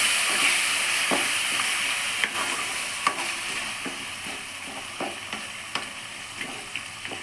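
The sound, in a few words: frying urad dal, cashews and green chilies in oil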